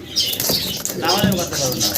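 Pigeons for sale at a breeder's in Bangladesh, wings fluttering close by in a short burst amid soft coos and chirps, with voices talking over them.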